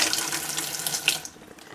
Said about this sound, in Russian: сейчас вода во все щели прет